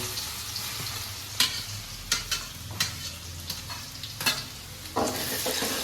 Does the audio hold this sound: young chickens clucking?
no